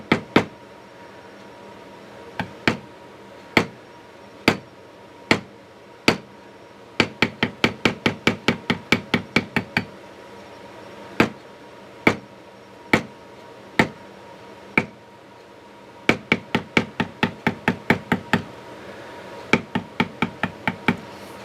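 A mallet strikes a beveling tool during inverted carving, producing sharp, close, evenly spaced knocks that alternate between slow single blows and quick rapid runs, with no talking.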